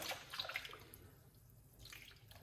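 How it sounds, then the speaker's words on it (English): Tap water runs into a sink while a blender is rinsed out, a faint, close splashing and trickling stream lasting a couple of seconds. "rinse out your blender"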